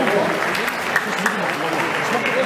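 Audience at an amateur boxing match applauding the fighters, a sustained, fairly close burst of clapping with an announcer talking over it.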